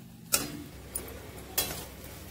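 Spices for homemade kala masala are dry roasted in a pan, heard as quiet, close scraping strokes of a spatula, three distinct scrapes spaced about half a second apart over a faint background.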